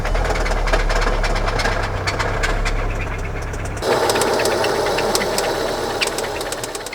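A worn VW/Audi 2.0T Gen3 engine runs close by with a loud, rapid metallic knocking and rattle over its idle. Partway through, the low rumble drops away but the sharp ticking continues.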